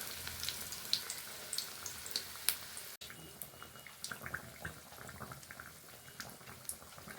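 Bread pakora coated in besan batter sizzling in hot oil in a kadai, a steady soft crackle and bubbling with small pops, close and alone without talk.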